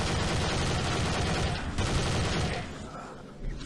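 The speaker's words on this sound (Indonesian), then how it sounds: "Tembak lagi, tembak lagi." Dense bursts of gunfire from the shooter game Dead Target, loud and continuous for most of the stretch before thinning out near the end, with no talk over it.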